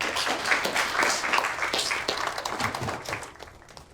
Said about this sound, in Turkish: Alkışlayalım arkadaşınızı